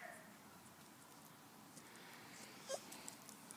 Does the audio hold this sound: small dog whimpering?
yes